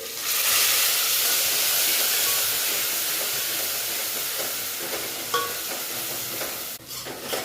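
Green paste sizzles loudly in hot tempering oil with fenugreek and asafoetida for a Gujarati green onion kadhi, a steady, close frying hiss that eases slightly toward the end.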